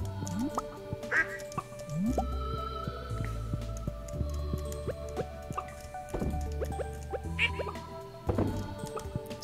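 Ducks in the video game Stardew Valley quack repeatedly over a busy farm soundscape of plinking and dripping game effects and background music, with the quacks clear and prominent throughout.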